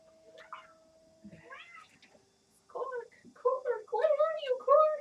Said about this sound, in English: When she loses track of it, she starts meowing.